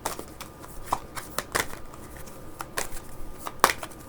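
Tarot cards being shuffled in quick riffling bursts with soft slaps and flicks, close and fairly quiet, without speech.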